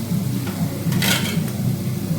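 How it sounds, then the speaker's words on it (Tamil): Masala for Dindigul Thalapakatti mutton biryani sautés in oil in a pan over medium heat, a soft steady sizzle with a few scraping stirs and a brief clatter near the middle. "அடுப்பை கம்மி பண்ணி மீடியமாக வச்சு வதக்கிக்கங்க"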